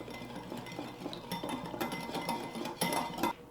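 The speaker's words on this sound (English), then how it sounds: "Then we just whisk it together" Barbecue sauce ingredients including smoked paprika, liquid smoke and lemon whisked together in a bowl, giving quiet irregular clinks and scraping taps of the whisk against the bowl, close and fairly soft.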